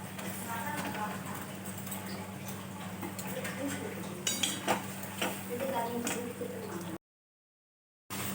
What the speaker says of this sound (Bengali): ভাজা মাছগুলো দিই